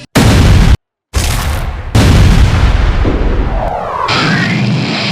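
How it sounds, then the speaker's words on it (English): Loud, booming explosions and bursts of gunfire in rapid succession from a Borderlands movie fight scene, broken by a brief silence, with heavy rumbling continuing throughout. "it's another 30-minute scene of just explosions and whatever"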